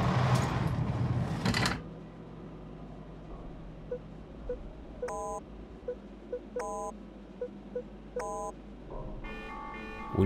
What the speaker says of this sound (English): When you fail a combination, an alarm will set off